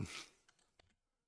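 A single sharp sneeze burst opens, loud and breathy, then trails into a few faint snuffles and small sounds before falling silent.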